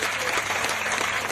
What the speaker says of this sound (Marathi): स्मार्ट सखी मंचासाठी एकदा जोरात टाळ्या वाजवूया आपण